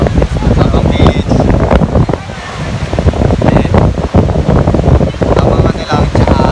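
Strong wind blows at Sabang Beach in Baler, a steady roaring gust that buffets the microphone over the surf, with voices faintly mixed in throughout.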